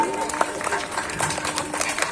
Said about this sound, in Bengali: সকলে একটা সায়ন দিদি আর অভিযাত্রী ক্লাবের জন্য একটা জোরে হাততালি দিই।